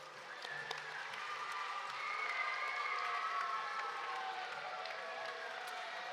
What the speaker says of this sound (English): So students, will you give your parents a round of applause?